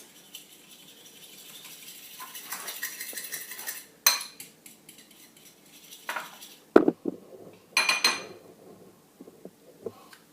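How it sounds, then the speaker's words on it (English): A fork beating eggs in a bowl while mixing chocolate ice cream base, giving light metallic clinks and rattles in short bursts, close and fairly quiet with pauses between. "I have to beat my eggs."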